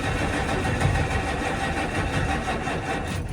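An old Duramax diesel truck that has sat through January cranks steadily without catching, a continuous close, loud churning of the starter and engine for several seconds with no voices.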